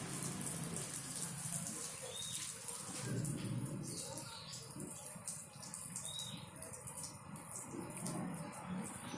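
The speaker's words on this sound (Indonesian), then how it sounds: "Kita bisa pakai selang air dari keran, disemprotkan seperti layaknya air hujan" Tap water from a hose sprayed like artificial rain over a caged crukcukan bulbul bird, a soft continuous hiss and patter at low level, with faint bird chirps now and then.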